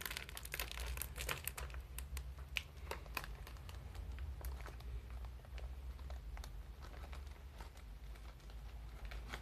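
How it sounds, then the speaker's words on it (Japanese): Precure wafer chocolate wrappers being torn and crinkled open at close range, with a steady run of sharp crackles and rips and no talking. "ウェアハウスチョコを買ってきました。 ではね、開封していきたいと思います。"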